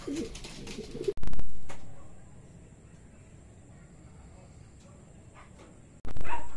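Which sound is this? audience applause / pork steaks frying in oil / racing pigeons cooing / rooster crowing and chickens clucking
racing pigeons cooing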